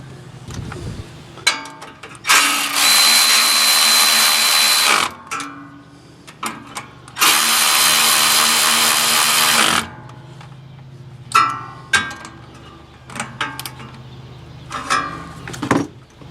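Power drill driving two bolts into a John Deere Gator throttle body: two long, loud whirring bursts of several seconds each, with shorter clicks and handling noises between them, close up.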